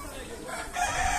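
A rooster crows loudly nearby in one drawn-out call at a petting zoo, with ducks, geese and other bird noise in the background.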